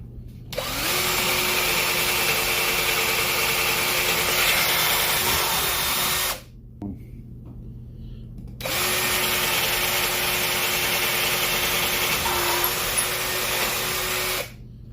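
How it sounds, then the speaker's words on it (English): A power drill whines loudly in two long steady runs, each several seconds, drilling holes for a desktop computer subwoofer, separated by a brief pause with small clicks and handling noises. "now I'm going to go ahead and drill out my marks"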